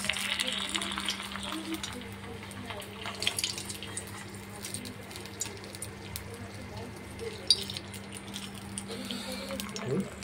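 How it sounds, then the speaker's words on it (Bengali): Khichuri being stirred in a pot, a soft continuous scraping and bubbling sizzle with occasional louder clinks, close up and fairly quiet throughout. "লাড়িয়ে দেবো খিচুড়িটাকে বন্ধুরা"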